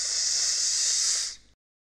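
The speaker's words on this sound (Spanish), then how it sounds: "Simplemente con limpiador de frenos y un trapo lo limpiaremos bien antes de instalarlo." Brake cleaner aerosol sprayed onto a new brake disc, producing a steady, loud, close hiss for over a second that tapers off quickly and stops.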